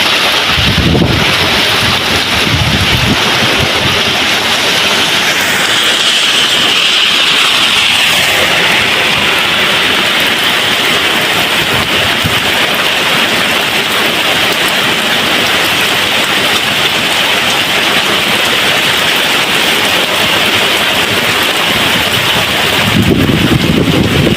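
Heavy late-afternoon downpour driven by strong wind, a dense continuous roar of rain and gusts buffeting the microphone for the whole stretch, with low rumbles mixed in and no talking.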